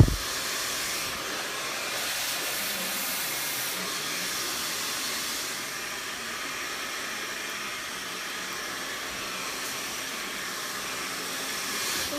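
A hair dryer blow-dries hair in a salon, blowing with a steady, airy hiss and whoosh close by, shifting slightly in tone as it moves, running continuously with no voices.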